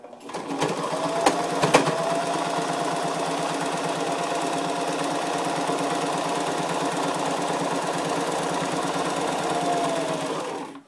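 A sewing machine runs steadily and loudly as it stitches the final seam of a double-ended fabric stuff sack, a fast continuous mechanical chatter with brief start-up clicks and no speech.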